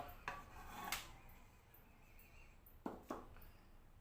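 A wok is set onto a stove for cooking a spicy Isan-style beef dish. A few faint metallic clanks and scrapes sound in a quiet kitchen, with two pairs of knocks spaced a couple of seconds apart.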